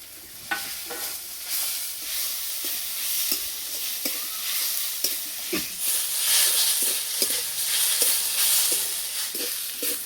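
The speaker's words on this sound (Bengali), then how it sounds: "মশলা ভাজা হয়ে গেছে, এবার গ্রেট করা আলু দিয়ে দেবো।" Grated potato fries with spices in a pan, a steady bright hiss of sizzling oil punctuated by regular scraping stirs throughout.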